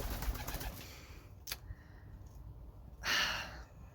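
Pet pigeons cooing in an indoor loft, two short soft calls separated by a pause, heard faintly and close against low background noise.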